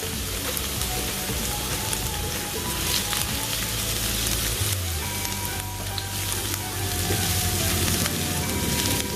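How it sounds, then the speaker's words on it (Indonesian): Shallots and garlic sizzle steadily in hot frying oil, a dense continuous crackle with no one talking, lasting throughout. "Sekarang sudah panas ya minyaknya. Aku mau masukkan bawang merahnya dulu."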